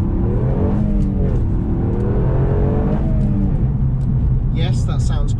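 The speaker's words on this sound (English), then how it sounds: "Yes, it sounds quite good in here when you accelerate." A Toyota GR Yaris accelerates hard, heard from inside the cabin, its engine note rising through repeated climbs with gear changes, loud and close, with a voice speaking over it.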